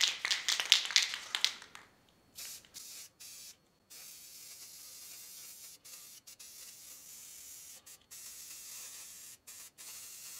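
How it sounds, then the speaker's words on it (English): White spray paint hisses from an aerosol can onto a walnut medal display in a loud burst, then continues in short, separated bursts with quiet gaps between them. "So we're gonna hit it with paint right now and see how it comes out here after it dries."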